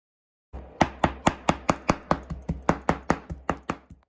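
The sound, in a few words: chopping peeled prawns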